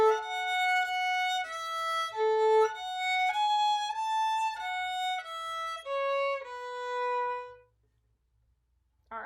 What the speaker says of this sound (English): So I'll just play this line through for you guys one time